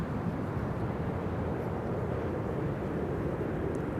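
Steady broadband roar of an airliner in SkyTeam livery, arriving from Rome, landing on runway 06 (Kaagbaan) at Amsterdam Schiphol, heard from outdoors as a continuous loud rumble without talk.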